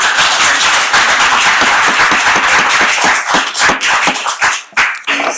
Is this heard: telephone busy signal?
no